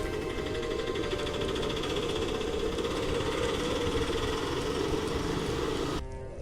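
An auto rickshaw's small engine idles steadily with a buzzing, rattling drone, close and constant, then cuts off abruptly near the end.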